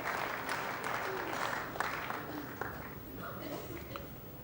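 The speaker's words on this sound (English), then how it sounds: "the crowd reacted as soon as the white hit the red there" Crowd at the 1985 snooker final between Taylor and Davis reacts with a burst of applause and murmuring, steady and fairly loud at first, then gradually thinning out over a few seconds.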